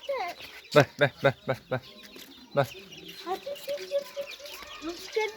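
Chickens and a rooster on a farm, clucking in a quick burst of loud, close calls followed by softer, scattered clucks, with a person speaking briefly among them.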